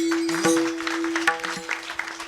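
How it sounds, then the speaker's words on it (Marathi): Audience clapping at a Marathi kirtan in Sakat, Barshi, a scattered run of hand claps under a held tone and voices, fairly faint. "टाळी"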